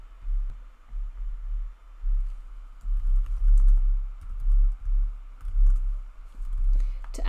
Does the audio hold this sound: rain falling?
no